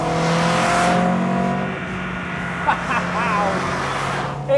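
An Alfaholics GT-AR four-cylinder car engine revs up and holds a raspy, rising tone, then settles as voices talk over it near the end.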